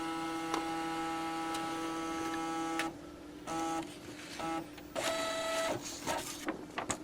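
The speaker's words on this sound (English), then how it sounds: "I wonder if it makes other stepper motor sounds at 600 dpi" The stepper motor of a Brother MFC-7220 printer/scanner whirs in steady tonal bursts while scanning, stopping and starting with short pauses, close and clear over a faint background hum.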